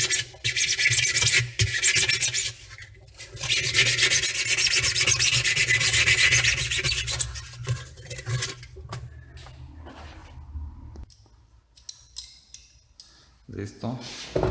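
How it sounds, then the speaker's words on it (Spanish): Sandpaper scraping a stuck seal on an automatic washing machine transmission, close, harsh rubbing strokes in long bursts with pauses, fading into quieter handling noises and light metallic clinks near the end. "Hay que rasparle con una lijita para que salga."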